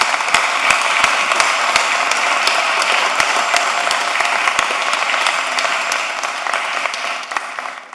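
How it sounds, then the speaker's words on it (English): Applause from an audience at a city commission meeting, loud, dense and sustained with sharp individual claps standing out, holding steady for several seconds before easing slightly at the end. "Round of applause"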